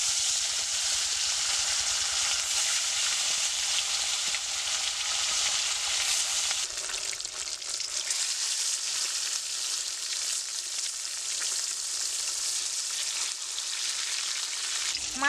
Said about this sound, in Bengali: তেলটা আমার গরম হয়ে গেছে। আমি এক এক করে মাছগুলো ভেজে নেব।